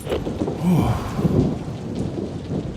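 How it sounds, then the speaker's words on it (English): Rain falls steadily in a forest while low thunder rumbles and rolls beneath it, loud and close, with no voices. "And now the howls and rain of the forests get Santa to thinking"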